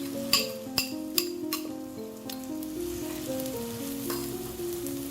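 Dried anchovies (ikan bilis) sauteing with other ingredients in a clay pot over a medium flame: a steady frying sizzle with a few sharp utensil clinks against the pot at the start, under soft background music.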